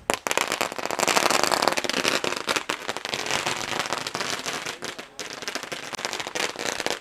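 Firecrackers crackle and burst at a cricket semi-final match, a dense, continuous barrage of sharp pops and crackles lasting several seconds, loud and close with brief dips in intensity.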